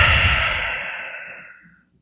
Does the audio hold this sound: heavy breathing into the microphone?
yes